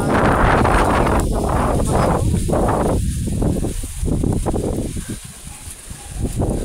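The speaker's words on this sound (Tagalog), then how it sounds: "grabe ang hangin." Strong outdoor wind buffets the microphone in a loud, continuous low roar with gusty swells and no pauses.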